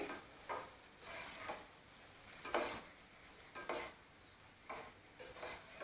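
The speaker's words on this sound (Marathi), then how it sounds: "चला एवढी बुंदी तळून घेऊया आपण" Boondi gram flour droplets frying in oil for motichoor laddu, a faint steady sizzle broken by soft rhythmic tapping bursts about once a second as batter is dropped in.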